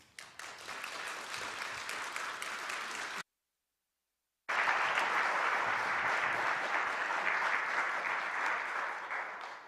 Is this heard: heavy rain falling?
no